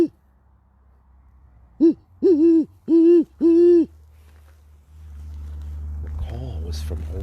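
A person's voice imitates a great horned owl, giving five low, deep hoots in a rhythmic series, the last four evenly spaced. Quiet outdoor surroundings follow, with a rising rumble of passing traffic.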